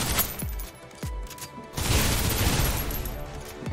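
Gunfire in the sci-fi shooter Snowbreak Containment Zone, with a few sharp isolated shots early that give way to a dense, continuous burst of automatic fire and rattling debris during an arena fight.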